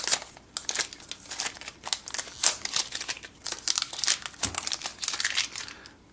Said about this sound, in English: I'm gonna go ahead and peel off all this plastic.